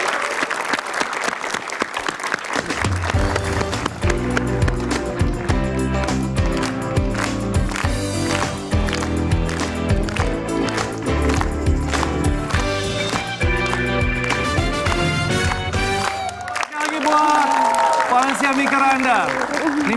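Loud, sustained studio audience applause and cheering greet a guest on an Indonesian talk show, over an upbeat music sting that drops out near the end.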